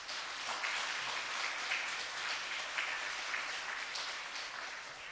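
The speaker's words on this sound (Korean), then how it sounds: "우리 박수로 한번 환영하겠습니다." Steady applause from a church congregation welcoming a visiting guest speaker who has travelled from Seoul, an even wash of clapping that lasts throughout at moderate distance.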